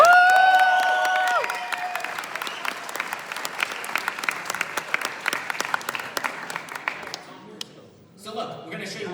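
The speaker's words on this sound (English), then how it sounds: "a round of applause." An audience bursts into applause, with cheering and a few voices over the opening claps. The clapping then thins into scattered, sharp individual claps and fades, and talking resumes briefly at the end.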